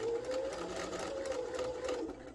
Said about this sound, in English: we're just going to stitch all the way around to the bottom of the mask